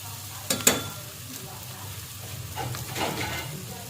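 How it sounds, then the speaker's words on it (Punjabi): Boiled peas roast in a pan over a low gas flame for aloo matar, with a soft steady sizzle and a few sharp scraping stirs near the start and again toward the end. "ਆਪਾਂ ਇਹਨਾਂ ਨੂੰ ਪਹਿਲਾਂ ਭੁੰਨ ਲਵਾਂਗੇ ਗੈਸ ਦੀ ਫਲੇਮ ਬਿਲਕੁਲ ਘੱਟ ਕਰ ਲਵਾਂਗੇ"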